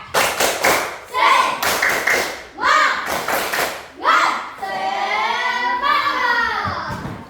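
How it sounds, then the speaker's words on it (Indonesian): An Indonesian classroom of children performs a rhythmic 'tepuk semangat' clapping chant, with bursts of patterned claps alternating with shouted group chanting, ending in a longer sustained sung phrase from the class. "Coba dulu tepuk semangat."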